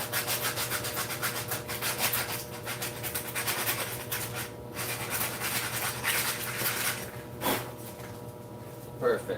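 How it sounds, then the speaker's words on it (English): Coarse-grit sandpaper rubbed over a scooter part makes close, steady back-and-forth scratching strokes that continue throughout at an even level, with a couple of sharper scrapes near the end. "put a little heavy grit on it. And a little piece of coarse grit. Let's sand the top of that a little bit."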